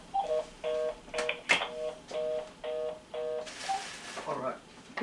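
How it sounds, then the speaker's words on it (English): Touch-tone telephone dialing, a series of short evenly paced beeps, one per key press, clear and fairly close, with a couple of sharp clicks and handling noise between them. "She goes to the telephone, she dials the number."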